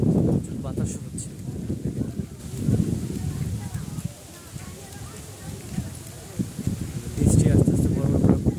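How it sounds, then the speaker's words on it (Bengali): Wind gusts ahead of a coming rainstorm, a steady low rumbling roar buffeting the microphone that swells and eases across the stretch and grows stronger toward the end. "বাতাস হচ্ছে"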